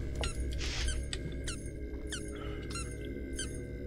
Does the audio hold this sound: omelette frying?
no